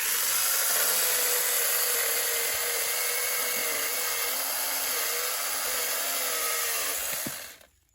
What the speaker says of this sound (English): Mini. Baby handsaw.